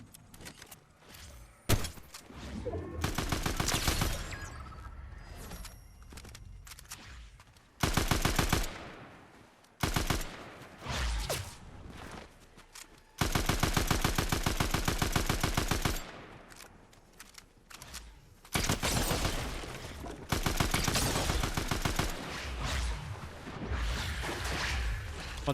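Bursts of rapid automatic gunfire from the Fortnite video game, several dense volleys of varying length separated by short quieter gaps with lighter game sounds.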